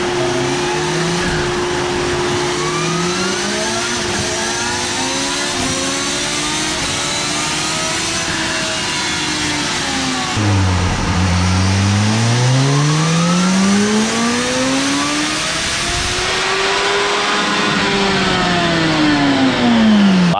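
A 2023 Kawasaki Z H2 supercharged motorcycle runs on a dyno for a baseline pull. The engine drones steadily at high revs, dips sharply midway, then climbs through the gears in rising, falling sweeps, loud and close throughout.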